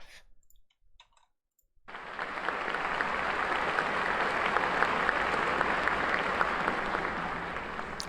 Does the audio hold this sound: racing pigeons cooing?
no